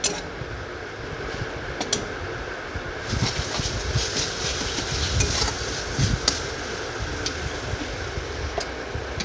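Spices with peas and potatoes stir-fry in a pan, a continuous close sizzle broken by scraping, clattering stirring strokes that get busier after the first few seconds, with no talking.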